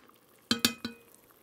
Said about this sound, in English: you can use a spatula or a wooden spoon to try to get some of this flavor off the side of the pot